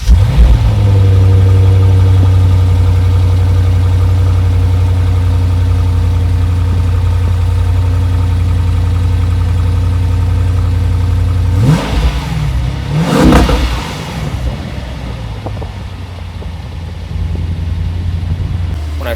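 A stock-exhaust Lexus RC F starts cold and settles into a loud, high fast idle that gradually drops, then two sharp revs flare up before it returns to a lower, steady idle.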